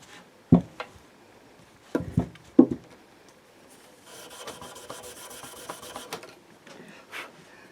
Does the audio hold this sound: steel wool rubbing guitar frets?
yes